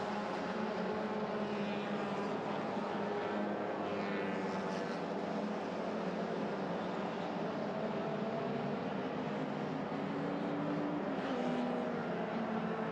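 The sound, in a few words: racing cars, Honda Jazz and Suzuki Swift, in a race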